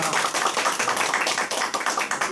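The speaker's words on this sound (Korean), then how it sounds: "박수 한번 주세요." A room of attendees at a Korean medical lecture on gastrointestinal ultrasound claps steadily in a dense, continuous round of applause that holds at an even level throughout, with no talking over it.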